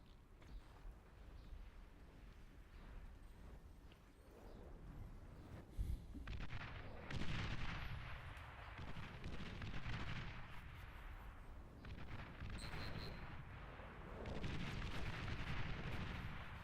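Napalm strikes in the video game Iron Nest, a continuous roaring barrage of heavy booms and fiery rumble sweeping across, loud and dense throughout with swelling bursts and no talking.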